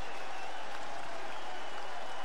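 More than 17,000 baseball fans are on their feet in a stadium, cheering and clapping in a dense, steady roar that fills the space without a break.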